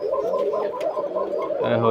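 Koka pigeons coo at a farm with a repeated, throaty, rolling call close by, joined by a short burst of rustling near the end.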